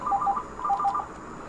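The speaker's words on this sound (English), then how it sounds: "Phone call, so one moment." A phone rings in Mass Effect 3 with a clean electronic two-tone trill, two short bursts in quick succession. The ring is loud and close, with no talk over it.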